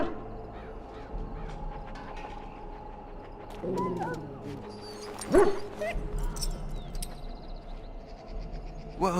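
A dog yips and barks a few times in a Dragon Age: Origins game scene, the short barks standing out over a low ambient game background with distant bird-like calls.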